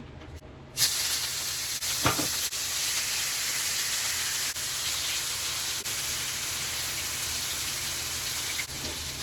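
Ground turkey sizzling in a hot pot of leftover taco shell grease, a steady close hiss of frying that starts abruptly and holds evenly, with a few faint clinks.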